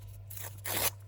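Paper is ripped into bits by hand, two short bursts of crisp tearing, the second louder and longer, close over a low steady hum.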